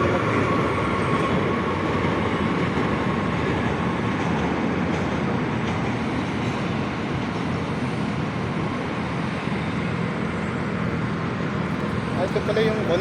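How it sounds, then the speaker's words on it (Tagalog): A steady, broad rumble of a passing elevated MRT train on Quezon Avenue, Quezon City, fills the scene, with a faint clatter of rail noise and some background voices and wind. "MRT, dumaan"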